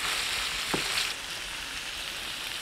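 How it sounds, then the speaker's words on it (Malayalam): Chicken parts sautéing in a hot pan with ground pepper, a steady close sizzle with a brief stirring scrape partway through. "ഇത് നല്ലപോലെ ഒന്ന് വഴറ്റിയെടുക്കാം നമുക്ക്"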